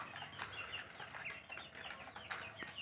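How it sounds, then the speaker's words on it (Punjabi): Young chicks on a farm chirping and clucking, a continuous busy chatter of many birds at moderate distance, faint and without talk. "ਇਹ ਵੀ ਵੱਡੇ ਚੂਚੇ ਹੋ ਗਏ ਹੁਣ"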